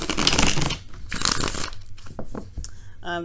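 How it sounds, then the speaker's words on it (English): Tarot cards being shuffled by hand for a love reading, giving bursts of dense riffling and crinkling that come and go over a few seconds, fairly close and loud, ending in a few sharper snaps with a brief tonal sound. "go ahead and shuffle your cards here"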